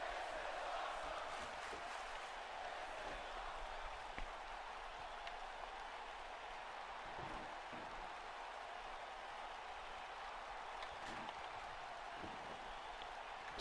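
Virtual arena crowd in WWE 2K20 during a ladder and table match, a sustained roar of cheering and clapping filling the background with occasional sharper peaks.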